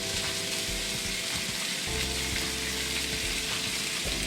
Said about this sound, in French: on y met le fenouil, les oignons, les poivrons